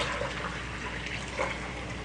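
Liquid is poured steadily into a dish or pan while cooking at home, a continuous splashing trickle that runs throughout without speech.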